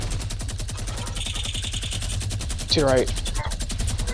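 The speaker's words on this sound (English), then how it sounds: "I'm gonna start shooting the minigun." A minigun fires in Fortnite as a steady, rapid stream of shots that runs the whole time, with a player's voice briefly heard over it.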